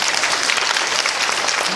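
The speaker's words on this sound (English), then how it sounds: "give them a round of applause" School audience applauding fifth graders at a Veterans Day assembly, a steady, dense round of clapping from many hands filling the room, loud and continuous.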